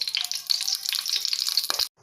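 Hot oil in a pan for chital fish kalia, a steady bright hiss and sizzle, loud and close, cutting off abruptly near the end.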